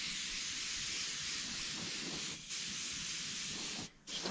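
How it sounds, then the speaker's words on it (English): An airbrush sprays a steady, soft hiss of black paint mist over the back of a crappie fish replica. The hiss breaks briefly twice as the trigger is released. "I'm going to mist a little more black over the back."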